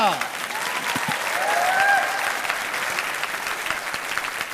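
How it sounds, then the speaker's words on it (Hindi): A studio audience at a Hindi television debate show claps in a dense, sustained round of applause that swells and then holds steady, with a voice talking over it. "आपके लिए जनता कितने जोर के साथ यहाँ पर ताली बजाती है"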